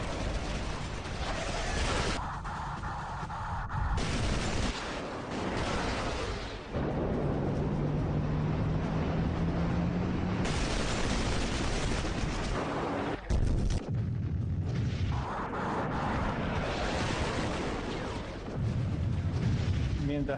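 Heavy bomb explosions from an aircraft bombing run during the Falklands War, loud rumbling booms and blasts repeating across the stretch, with a voice narrating over them.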